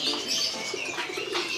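A Pomeranian pouter pigeon at a bird market gives a soft, close rolling coo amid faint chirps and busy market background noise.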